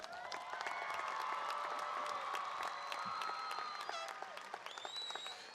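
Crowd applause at a high school graduation ceremony, steady and somewhat distant clapping with cheering and whistles rising over it and voices mixed in.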